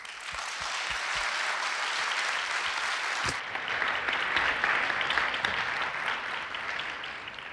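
Sustained audience applause welcoming a guest lecturer at an evening church lectureship session, loud and steady from a full room with no voices.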